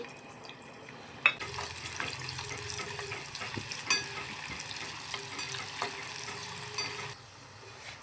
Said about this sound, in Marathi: एक मोठा कांदा आहे तो मी उभा चिरून घेतला आहे तो आपण ह्याच्यामध्ये त तळून घेणार आहे बिर्याणीसाठी